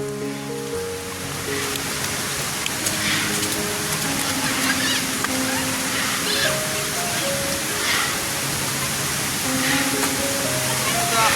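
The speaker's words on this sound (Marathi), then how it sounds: "आलो आहे ओढ्यावरती एकदम गडूळ गडूळ पाणी आहे" A muddy, swollen stream flowing after heavy rain in green Konkan village countryside, a steady broadband rush of water close by, with someone talking over it throughout.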